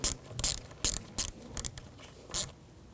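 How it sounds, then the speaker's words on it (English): A ratchet wrench tightens the negative battery terminal on a 2011-2018 Volkswagen Jetta, giving several short bursts of close, crisp clicking with brief pauses between strokes. "Take the negative side, connect the terminal, and tighten it down."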